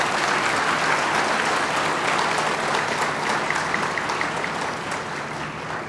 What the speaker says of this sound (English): A huge round of applause for what he's just done.